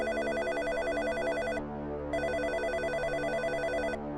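A telephone rings early in the morning, sounding two long, loud electronic ring bursts separated by a short pause, with a low hum underneath.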